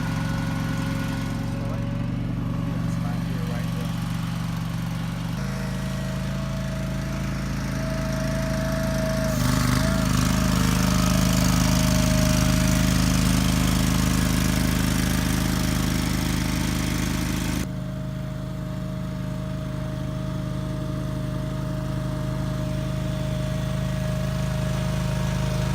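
A ride-on greens mower cuts golf-style greens on Troy University grounds, its engine droning steadily and close throughout, rising louder midway before settling back to a lower hum.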